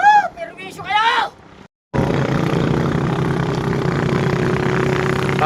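A boat engine on the sea runs as a steady, loud droning rumble close by after a short bit of shouting and a brief silence, continuing without a break to the end.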